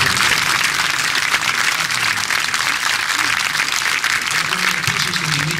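Warm applause from a concert audience at a tribute concert in Naousa, loud and continuous clapping filling the whole stretch, with faint crowd murmur underneath.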